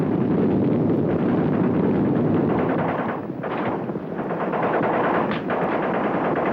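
Sustained machine gun fire in a wartime battle scene, rapid continuous loud bursts with a short lull in the middle before the firing resumes.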